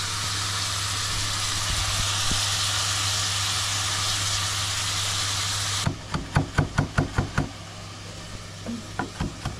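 Hot oil hisses steadily in a pan as soy sauce is added, a loud broad sizzle for several seconds that cuts off abruptly, followed by a string of sharp knocks and clatters.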